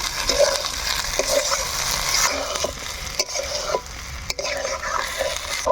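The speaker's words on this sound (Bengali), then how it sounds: "ছোলা কচুর পিস দিয়ে আমরা কিন্তু ভালোভাবে নাড়ি চাড়িয়ে নিব" Pieces of sola kochu (taro) are stirred through frying spice masala in a pan, a continuous hiss of sizzling oil broken by scraping strokes and soft knocks of the spoon.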